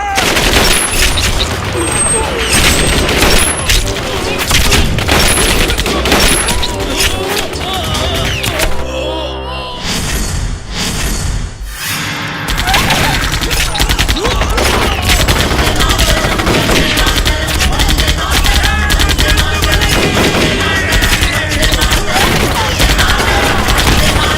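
A loud, sustained fusillade from a Bhojpuri film battle scene: rapid machine-gun bursts and booming shots pound almost without pause, dipping briefly near the middle before surging back.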